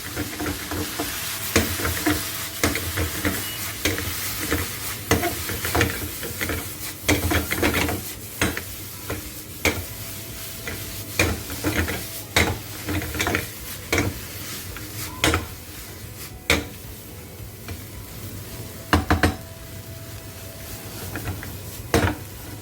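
Chowmein tossed in a hot wok with scrambled egg and green chili sauce, sizzling steadily while repeated sharp scrapes and clanks of utensil on pan punctuate it throughout.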